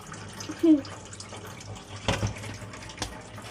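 Fish are rinsed with turmeric and salt under running water, giving soft splashing and short bursts of tap flow against a quiet background.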